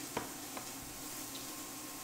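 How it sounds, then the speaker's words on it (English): Sauce sizzles steadily in a pan during beef stroganoff cooking, a soft continuous frying hiss with a couple of brief stirring clicks near the start. "You hear it sizzling in there?"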